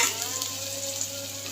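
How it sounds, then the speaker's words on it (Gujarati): Asafoetida and turmeric tempering in hot oil over a low gas flame, an even, continuous close sizzle with light crackle throughout and no speech. "વઘારી નાખીએ."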